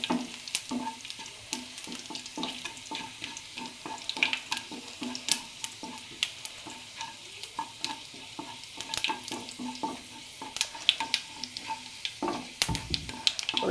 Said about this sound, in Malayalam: ഇല്ലെങ്കിൽ നമ്മൾ ഉള്ളിയിട്ട് വഴറ്റി